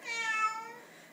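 Domestic cat meowing at home before being fed, one drawn-out, loud, close cry that fades toward the end, with no talk over it.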